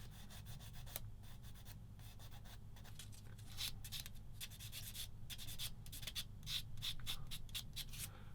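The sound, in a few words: sponge sanding a plastic scale model kit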